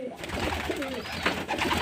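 Pigeons coo in a loft where young birds are kept, a continuous, low, throaty burbling from several birds close by that fills the short stretch.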